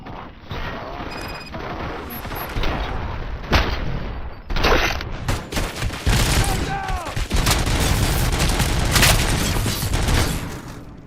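Heavy gunfire in RoboCop: Rogue City, with loud rapid bursts, automatic fire and booming impacts crashing together near and constant for several seconds. A voice is heard briefly amid the barrage.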